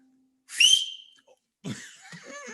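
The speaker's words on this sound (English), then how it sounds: "I can whistle. Listen." A person whistles a bright, rising two-note tone, followed after a brief pause by a second, wavering whistle, close and clear.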